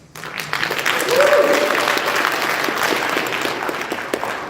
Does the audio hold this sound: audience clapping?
yes